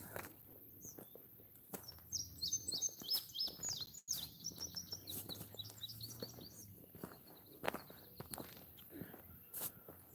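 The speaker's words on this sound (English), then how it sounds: "I'm hearing the owls." Owls call at night near the overgrown remains of an old golf course: repeated high, thin chirping calls from some distance, with soft footsteps and rustling close by.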